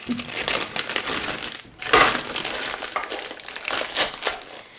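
Plastic piping bag crinkling and rustling as it is handled and set into a glass for chocolate, close and continuous with a sharper crunch midway.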